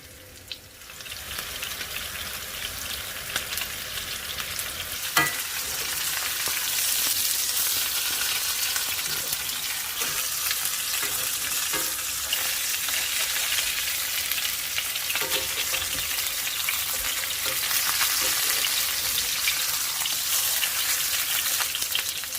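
Beef pot roast searing in a hot pan, a dense crackling sizzle that swells after a few seconds and holds steady with scattered pops, close and loud, no talk.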